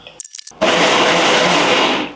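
A mixer grinder coarsely blends raw ivy gourd for chutney, starting after a few brief clicks and handling sounds and then whirring loudly and continuously to the end.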